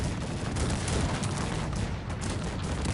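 Cannon volleys in a Cossacks 3 battle, dense overlapping booms and rumbling blasts rolling on continuously, loud and close with no pause.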